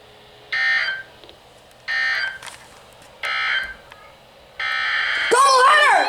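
Emergency alert system tones for a tornado watch: three loud, evenly spaced bursts of a two-tone attention signal, then a longer tone that ends in a rising, warbling sweep, with a voice starting near the end.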